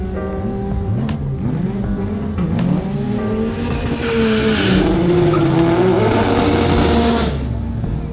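Drag racing car making a run at a strip in Jamaica, engine roaring loud and close with rising and falling revs and tire squeal, steady and continuous throughout with no talk.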